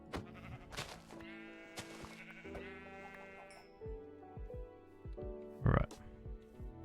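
Sheep bleat in the Minecraft video game, a few short wavering calls mixed with other game noises and clicks, ending in a louder burst near the end, all at a fairly low level.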